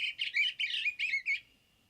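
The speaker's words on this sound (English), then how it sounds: "I have the bluebird song for you." An eastern bluebird sings a short, clear phrase of four bright warbling chirps in quick succession, close and alone against a quiet background, with a soft fading trill at the end.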